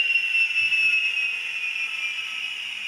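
A model locomotive's digital sound decoder winds down as its engine shuts off, a steady high-pitched whine and hiss that fades gradually over a few seconds, heard alone at close range.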